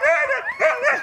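Sled dog with some Malamute in him, a strong wheel dog, giving a quick run of close, high yipping barks, about three in one second, alone with no talk.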